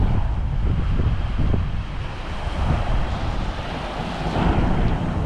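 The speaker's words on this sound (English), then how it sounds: "Sorry about the wind" Steady, heavy wind buffeting the microphone, a loud continuous low rumble with gusty surges throughout, no voices.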